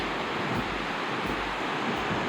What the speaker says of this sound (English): there's a lot of runoff. The water is flowing,